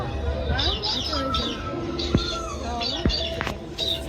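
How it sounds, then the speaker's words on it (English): A cockatoo calls during a free-flight bird show at Taronga Zoo in Sydney, Australia, giving short chirping and squawking notes amid other bird sounds while people talk nearby. "There's a cockatoo."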